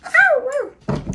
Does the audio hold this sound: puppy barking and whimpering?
yes